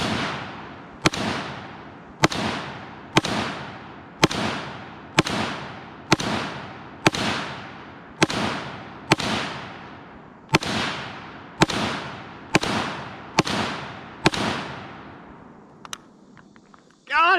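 AR and AUG rifles fire about fifteen sharp, loud shots at a steady pace, each with a ringing decay, at an outdoor range, followed by a faint metallic ring at the end.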